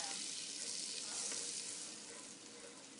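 Flour sizzles in melted butter as it is stirred into a roux for lobster bisque, a continuous soft frying hiss with faint scraping, close and unbroken.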